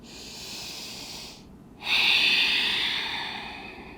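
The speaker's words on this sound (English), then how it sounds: "Take a couple deep breaths here." Slow, deep breathing while resting in child's pose during a morning yoga practice: a long exhale, a short quiet pause, then a louder, fuller breath in that trails off gradually, close and alone.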